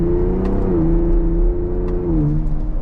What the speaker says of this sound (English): I just love hearing that exhaust. It sounds really good.